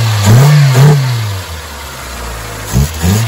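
A 1999 Saturn SC1 with a SOHC engine, running after a lean-condition fuel pump fault, revs up twice close by, settles to a low idle, then revs again.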